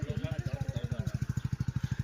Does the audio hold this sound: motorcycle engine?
yes